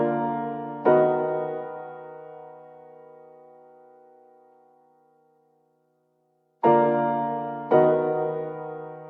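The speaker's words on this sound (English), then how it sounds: "these two different piano parts are doing just the same chords that" Two piano parts panned left and right on a Spitfire Intimate Grand sampled Yamaha U3 upright play the same sustained chords: one struck chord rings out and slowly decays for several seconds, then two more chords sound near the end, clean and close.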